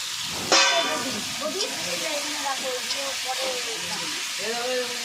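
Eggplant, potato and pumpkin pieces hiss and sizzle as they hit a hot pan, followed by steady frying while a person talks over it.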